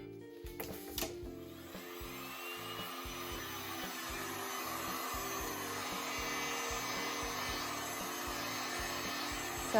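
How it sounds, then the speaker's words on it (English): An industrial fan blows steadily across a wet resin ocean pour on an ottoman tray, a constant broad whoosh with a low rhythmic motor pulse, preceded by a couple of brief clicks near the start. "I took industrial fan."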